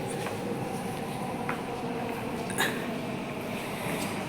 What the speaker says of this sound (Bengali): এই দেখেন টাইম টু টাইম এখানে মেট্রো চলে আসে